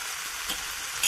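Sambar powder with chilli and turmeric sautés in a pan as a steady hiss of sizzling oil, close and continuous, with a faint stir near the end and no voices.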